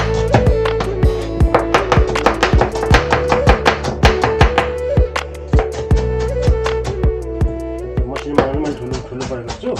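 A knife chops red onion on a board in a home kitchen, quick sharp taps in uneven bursts, close and loud, with a low steady hum underneath.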